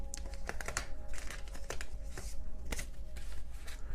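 Tarot cards being gathered and cleared off a reading board, heard as close, dry shuffling, sliding and light tapping of card stock in quick irregular bursts, with no voices.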